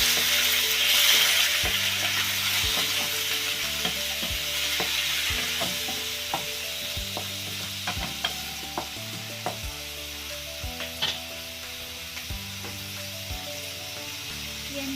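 Fresh squid stirred in a hot pan for adobong pusit, giving repeated close clacks and scrapes of the utensil in a steady rhythm over a continuous sizzling hiss, with no voices.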